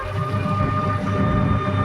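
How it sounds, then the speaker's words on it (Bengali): A train rolls past nearby with a loud, steady rumble and a droning tonal hum, continuous throughout with no voices. "ট্রেন যাচ্ছে ওই দেখো"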